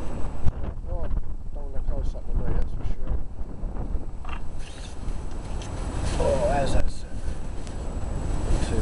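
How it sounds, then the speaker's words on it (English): Strong wind gusting at a lakeside fishing spot at Brock Water, a steady rough buffeting roar across the microphone, with someone talking briefly over it early on. "That wind is proper pelting."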